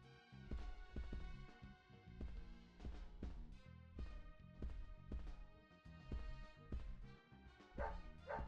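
A dog barks in the video game Deadly Premonition Origins, its yips and bow-wows mixed into steady, beat-driven game music that fills the whole stretch.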